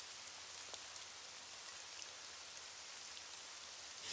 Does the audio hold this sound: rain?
yes